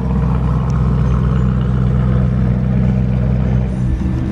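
A new blue sports car with its exhaust valves open rumbles loudly and steadily close by, a deep continuous engine roar holding throughout without any voices.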